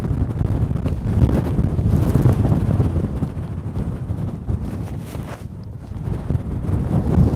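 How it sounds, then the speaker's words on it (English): Strong wind blows steadily across the summit of a volcano, buffeting the microphone with a constant low roar and no voices. "It's just really windy."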